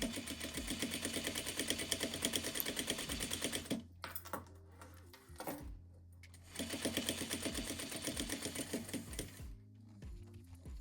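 A sewing machine stitches a zippered pouch in fast, rhythmic mechanical bursts, close and clear, stopping twice for short pauses with faint clicks before the stitching resumes.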